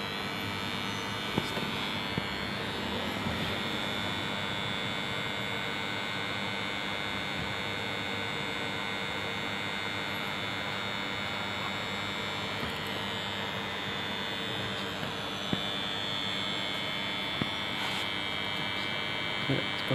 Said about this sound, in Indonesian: motor sedang starting, itu melihat motor bergerak dari kecepatan dari 0 rpm sampai menuju set point yaitu 500 rpm